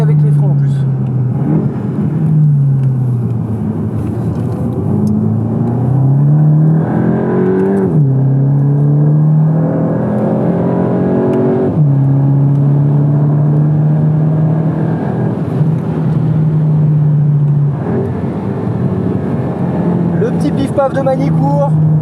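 A Volkswagen Golf laps the Magny-Cours F1 circuit, its engine heard from inside the car climbing through the revs, dropping at each gear change and rising again, loud and sustained, with someone talking over it.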